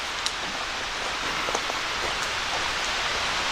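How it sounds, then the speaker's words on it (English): Steady broadband rush of running water beside a hiking trail near Overall Run Falls in Shenandoah National Park, a constant close wash with faint scattered drips and no talking. "I hear water."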